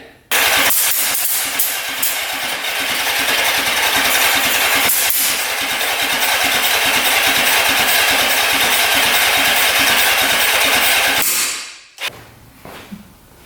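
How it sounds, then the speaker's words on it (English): A $300 Suzuki Quadzilla quad with a swapped 750cc engine runs loud and close, backfiring out of the carbs. The rough, continuous roar carries irregular pops before it cuts out abruptly near the end. "Backfiring like crazy out of the carbs."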